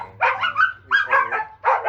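Small dogs, a Chihuahua and a Japanese Spitz, let out three quick, high-pitched yappy barks close by in fairly even succession.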